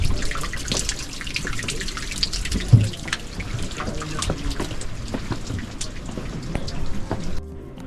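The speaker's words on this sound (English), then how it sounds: "There's something therapeutic about the sound of running water throughout these ruins." Water runs through old Incan drainage channels in the Machu Picchu ruins after rain, splashing and trickling in a steady wash with scattered drips close by.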